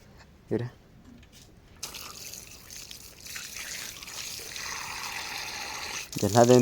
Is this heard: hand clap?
no